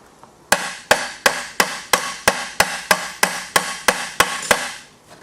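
A hammer taps the edges of a metal chimney device in a steady run of about thirteen sharp, evenly spaced taps, each ringing briefly, close by and loud.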